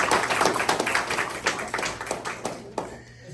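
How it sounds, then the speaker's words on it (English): A small audience at a People's Law School session in Fayette County, Georgia, applauds a sheriff's captain with a short burst of distinct, fairly close hand claps that thins out and fades within about three seconds. "Give him a big round of applause."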